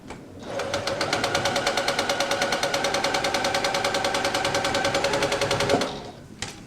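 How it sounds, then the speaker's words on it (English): A sewing machine runs a steady straight stitch, its rapid even needle chatter holding for several seconds before stopping abruptly, close and alone. "I'm just doing a straight stitch"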